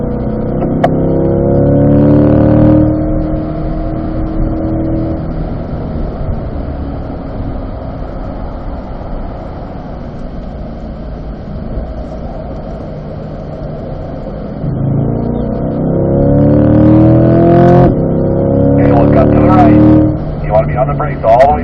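C8 Corvette lapping a racetrack at a performance driving school, with engine revs rising and falling as the car accelerates and brakes, heard from inside the cabin under steady instructor talk.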